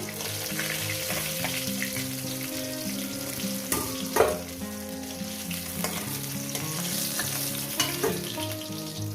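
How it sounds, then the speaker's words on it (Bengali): Oil crackles and sizzles continuously as Nile tilapia fries, with occasional louder pops and spatters over a steady hiss. "ভেজে নিয়ে দিচ্ছি"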